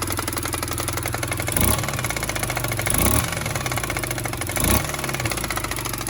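A warmed-up 2008 Kawasaki quad idles steadily and close, with a fast, even chug and a few brief rises in engine speed along the way.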